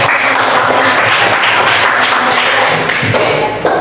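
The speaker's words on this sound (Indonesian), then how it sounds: "Dikasih aplaus untuk kalian" Classroom applause for a team of students: dense, loud clapping from many hands runs steadily through the whole stretch, close by, with no one speaking.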